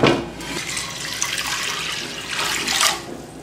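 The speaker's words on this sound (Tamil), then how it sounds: "இந்த செம்பில் ஒரு செம்பு தண்ணி ஊற்றிட்டு இன்னொரு செம்பு தண்ணி ஊற்றிக்கலாம்" Water pours steadily from a small vessel into a cooking pot of lentils for wheat rava pongal, a continuous splashing rush that swells slightly near the end, close by and without voices.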